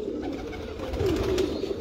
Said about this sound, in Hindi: सैफुल्लाह खान साहब का मेन बड़ा 7 स्टार कबूतर है